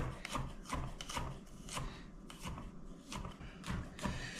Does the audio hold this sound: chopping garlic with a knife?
yes